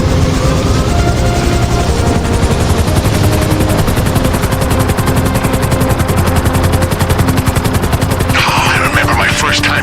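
An agency helicopter's rotor thumps loudly and steadily while rapid bursts of gunfire rattle over it during an in-game mission in GTA V Online, with a dense wash of engine noise throughout.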